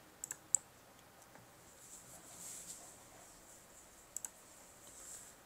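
A computer mouse clicks while a Windows transfer wizard program runs, a quick cluster of sharp clicks at the start and another pair later, close and faint over quiet room hiss.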